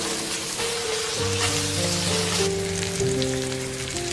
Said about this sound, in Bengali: 1 চামচ সুইট বিন সস আর বিন পেস্ট দিয়ে নাড়তে হবে।